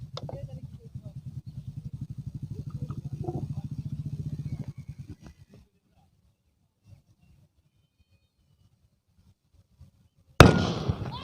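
Four pieces of sodium metal hit with water, erupting in a sudden loud burst near the end after a long hum fades into quiet, with faint ticks in between.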